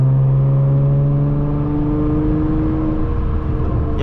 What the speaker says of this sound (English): my intake's so loud